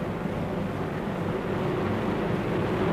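Four 2,200-horsepower aircraft engines turning 16.5-foot Hamilton propellers give a steady, dense droning roar, constant and unbroken, with no voices over it.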